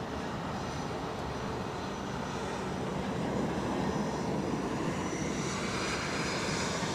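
An airliner rolls on the crosswind runway at Zurich Airport, its engines a steady, broad roar that swells slightly midway and holds at a constant loudness throughout.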